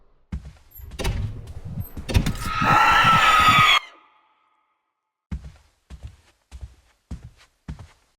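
Screams and a loud jump-scare burst in a horror video game, a rising shrill cry and harsh noise for a couple of seconds, followed by quiet footstep-like thuds.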